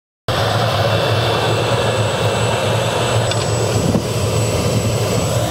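A helicopter running steadily nearby at a remote alpine field site, its engine and rotor making a constant loud drone with a whining high tone throughout, no voices.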